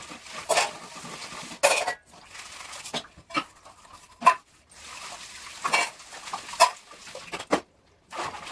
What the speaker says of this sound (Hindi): बर्तन धो लेती हूँ